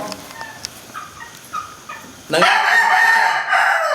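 Near the end, a rooster from a gamefowl breeding pen lets out a loud, close crow, following a stretch of quieter clucking and faint background bird noises.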